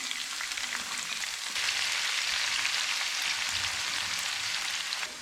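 Green chilies, ginger and garlic sizzle in hot oil with browned onions for Punjabi-style saag, a steady, dense frying hiss that swells louder after the first second and a half and runs without a break.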